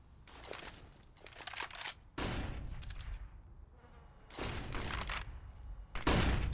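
Counter-Strike match in a Chinese closed qualifier for the Asia Minor Championship Berlin 2019: several separate sprays of rapid gunfire, each lasting about a second or more, with quieter gaps between them, no voice over them.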